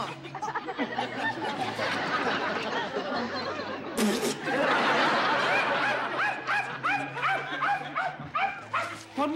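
A dog barks and yips repeatedly at close range, the barks mixed with people's laughter and voices.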